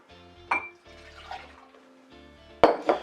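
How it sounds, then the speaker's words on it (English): Hot water is dumped out of a glass while a drink is being prepared, giving a short pour and splash followed by a few sharp glassy clinks and drips near the end. "We're going to dump out our hot water."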